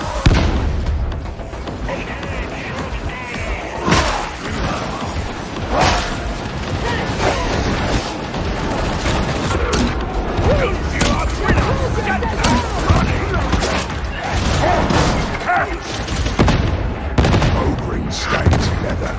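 Gunfire and explosions from the video game Warhammer 40,000: Darktide, with rapid bursts of shots and repeated heavy booms, loud and dense throughout, mixed with game voices speaking.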